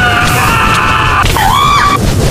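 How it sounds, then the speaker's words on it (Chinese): A teacher character in the Minecraft video game lets out a short, loud scream that swoops in pitch, over a dense, noisy game soundscape. "老师的惨叫声简直太美妙了"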